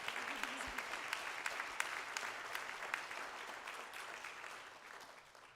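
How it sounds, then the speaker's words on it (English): An audience at a civic panel on government housing policy in Indianapolis claps steadily, a dense, even round of applause that fades slightly toward the end. "Can we have one more round of applause for our..."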